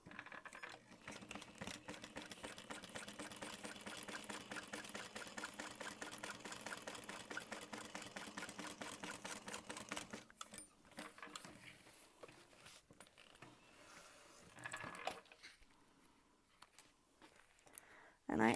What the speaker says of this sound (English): Sew across the bottom.